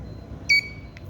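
A buzzer on an ultrasonic distance sensor circuit gives one short, clear electronic beep and then a fainter second blip, against a low background hum.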